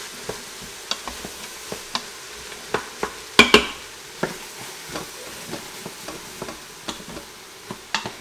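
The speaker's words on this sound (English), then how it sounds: "So let's mix our vegetables and onions all together." Chopped vegetables and onions are stirred together in an Instant Pot for spare rib chili, giving sparse, scattered scraping taps at an unhurried pace, nearby and fairly quiet.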